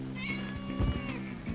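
A cat in the video game No More Heroes 2 meows, with a couple of clear, tonal meows close and moderately loud over a soft in-game backdrop, with no talking.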